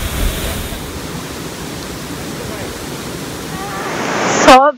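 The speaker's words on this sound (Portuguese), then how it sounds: "essa daí é a cachoeira que foi gravada no vídeo" Waterfall beside a hiking trail: a steady, broad rushing roar of falling water fills the whole stretch, close and loud, with a brief burst of other sound right at the end.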